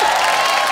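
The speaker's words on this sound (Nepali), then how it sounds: "ताली पड्काउनुहोस् मलाई एकचोटि" Applause and cheering from a comedy club audience, a brief dense burst of clapping filling the room at close range with no talk over it.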